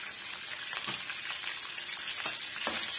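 Green chillies and lentils sauté in a hot pan with a steady close sizzle and occasional stirring scrapes, no talking.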